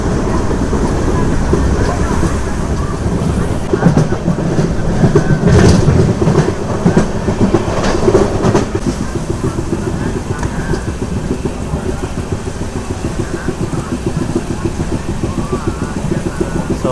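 Passenger train on the Tirupati to Coimbatore route rolling along the tracks in rain, with a steady clickety-clack rumble and wagon rattle, loud and continuous, passing a few heavier thumps midway.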